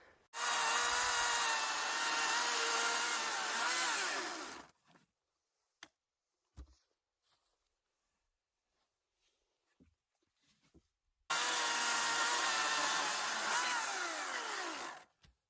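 A dull hand saw cuts firewood outdoors in the sagebrush of Nevada, with two loud, steady bursts of rasping back-and-forth strokes separated by a long quiet pause holding a few faint knocks.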